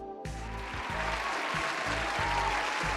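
Looping animated applause sound effect playing on a live community stream, a steady dense wash of clapping that starts abruptly after a brief silence and continues at even loudness, with low-pitched rhythmic music or tones pulsing underneath.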